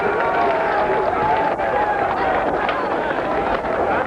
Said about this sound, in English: There is the part of the sellout crowd here at Colby College